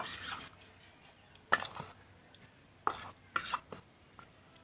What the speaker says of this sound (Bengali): এবার সব উপকরণগুলি ভালো করে মেখে নেব।